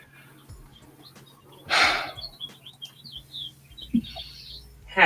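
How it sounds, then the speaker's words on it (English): Songbird chirping in springtime, a few brief high calls scattered over quiet room noise, with one louder rustling burst and a faint breathy sound near the end. "Happy little bird."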